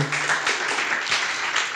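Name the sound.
church congregation applause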